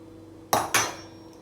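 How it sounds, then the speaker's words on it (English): A single egg cracked on the rim of a pan of swirling water for poaching, giving two sharp, close taps in quick succession, alone in a quiet kitchen. "Crack your egg."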